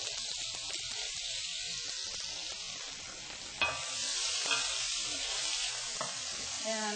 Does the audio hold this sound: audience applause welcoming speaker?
no